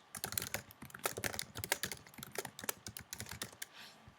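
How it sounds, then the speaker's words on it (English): Rapid typing on a computer keyboard, quick irregular key clicks close by and steady throughout, with no talking. "Hopefully I'm not typing too fast."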